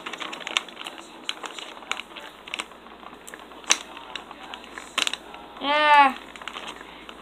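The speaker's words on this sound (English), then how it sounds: "Oh god, this tape. The horror of bloody tape." Packing tape being pulled and peeled off small plastic mini dinosaur toy packaging, with scattered crackling ticks and a louder stretched tearing rip near the end, heard close up under a brief spoken exclamation.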